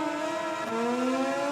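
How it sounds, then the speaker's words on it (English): A race motorcycle in MotoGP 20 revs on the grid at a French circuit before the start, a steady droning engine note that dips and shifts pitch midway, held close and alone. "So here's Stone revving up then for the start"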